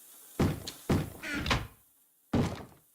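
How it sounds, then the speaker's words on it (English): Heavy thuds of someone banging on a wooden door in a Minecraft modpack game, three loud knocks spaced unevenly, with a rough scraping noise trailing after the second. "Someone's banging on my door."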